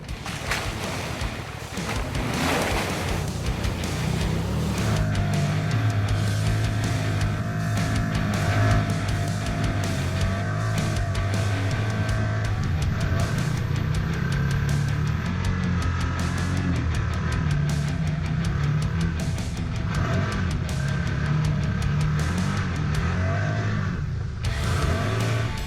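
A vehicle ploughs through mud with a continuous engine roar that swells as it pushes on, while splashing and sloshing wash over it and irregular knocks and thumps break in near the end.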